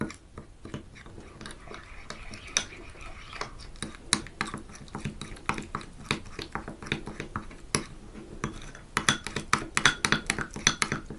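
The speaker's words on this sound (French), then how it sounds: "Je mélange le tout." A utensil stirs a sauce seasoned with sweet pepper in a bowl, giving a steady run of light clinks and scrapes against the bowl, getting busier toward the end.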